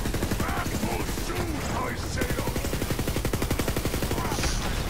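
Rapid automatic gunfire in Borderlands 3 hammers out in a dense, steady burst, loud and continuous throughout, with a person talking over the shooting.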